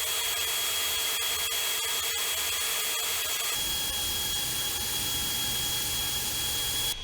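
A new electric drill drives a pump priming a pipe while boring for water, a loud, continuous high whine with rapid clicking pulses that changes pitch and texture about halfway through.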